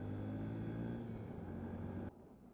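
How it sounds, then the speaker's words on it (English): A bus driving past up close on a road between Leeds and Bradford, a loud steady low engine rumble with harmonic drone that cuts off abruptly near the end, leaving quieter road noise. "That's my bus."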